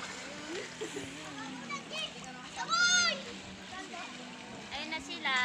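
Children splash while bathing in clear river water near Cabangan, Zambales, with bursts of splashing rising and falling under lively nearby children's voices and talk.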